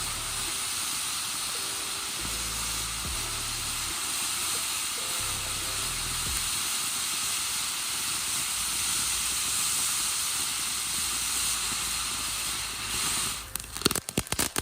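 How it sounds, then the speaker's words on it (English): A TNT Fireworks Safe & Sane fountain sprays with a sustained loud hiss and a few low thumps early on, then ends in a quick burst of sharp crackling. "Another fountain like Crypto with that swimming snake effect as well."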